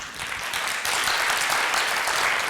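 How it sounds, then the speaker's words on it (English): A short burst of audience applause swells and holds steady, a dense wash of many hands clapping at a talk on Parkinson's treatment. "So can they please give themselves a clap?"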